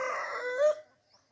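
A single short call from a country chicken comes through clearly for under a second, then fades into quiet.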